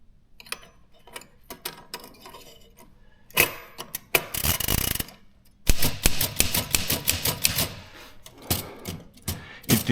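Italian SIM typewriter typed in bursts of rapid, close mechanical key strikes and clacks, with quieter pauses between runs and no talking.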